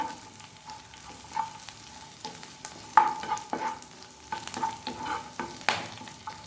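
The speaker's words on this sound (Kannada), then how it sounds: "ಆಮೇಲೆ 2 ಕರಿಬೇವು, ಅದನ್ನು ಕೂಡ ಹಾಕ್ಕೊಳ್ಳುವ. ಹಾಕಿ ಒಳ್ಳೆ ಫ್ರೈ ಮಾಡಿಕೊಳ್ಬೇಕು" Curry leaves fry in hot oil in a pan for Chicken 65, a soft crackling sizzle broken by scraping stirs and clicks of a spoon against the pan.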